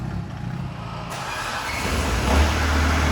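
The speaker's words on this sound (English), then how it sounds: "This is actually a Mitsubishi, but it has a Isuzu turbo diesel swap with 2 turbos" An older Mitsubishi pickup truck with an Isuzu twin-turbo diesel swap rumbles nearby, its low engine note building and swelling louder toward the end, with no talk.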